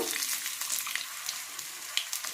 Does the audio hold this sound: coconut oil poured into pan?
yes